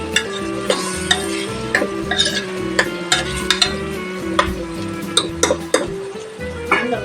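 Chopped tomatoes sautéed in a pan for biryani, a ladle scraping and clanking against the metal pan in a quick irregular rhythm over a low sizzle, close and fairly loud.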